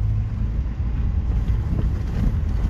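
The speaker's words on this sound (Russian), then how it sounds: "Вот мы все едем по Петербургу." Inside a car driving through the outskirts of Saint Petersburg, a loud, steady low-frequency road and engine rumble continues throughout, with wind-like buffeting and no speech.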